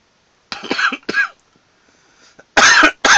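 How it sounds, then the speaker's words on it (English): A man coughing close by, a pair of harsh coughs, a faint rasp, then another loud cough burst; no talking. "It's me coughing again."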